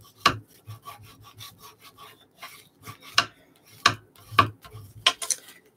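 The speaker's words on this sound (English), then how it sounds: "I need my little bone folder." A bone folder is drawn firmly across folded paper, making a series of short dry rubbing and scraping strokes, several sharp and close with quieter scuffs between them, alone without any talk.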